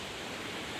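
Rushing water of the Kurmanga waterfall on a trek, a dense steady roar filling the whole short stretch, close and unbroken with no voices.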